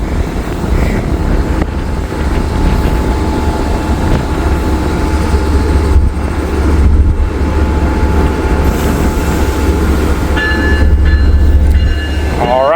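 A train rumbles loudly past a railroad crossing, a heavy continuous roar with steady rail noise and a brief higher tone near the end.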